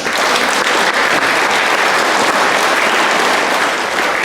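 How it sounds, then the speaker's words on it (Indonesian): A wedding crowd applauding steadily, dense and continuous clapping that stays loud throughout without pause. "Kita berikan tepuk tangan."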